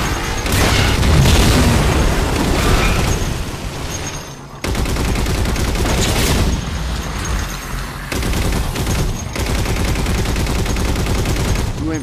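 Rapid sustained turret gunfire from the video game Halo 4, dense booming bursts firing almost continuously for the whole stretch, loud and close, with only brief dips between volleys.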